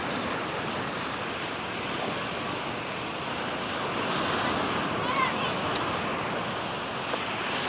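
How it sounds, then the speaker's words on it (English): Waves wash steadily onto the sandy beach in front of Kefalos Beach Holiday Resort in Paphos, a continuous broad rushing surf mixed with light wind across the microphone. "So this is the beach that's directly in front of Kefalos Beach Holiday Resort."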